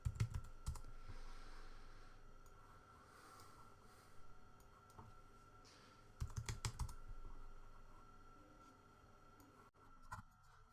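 Typing on a computer keyboard, with scattered bursts of close, soft key clicks separated by short pauses, quiet and with no talking.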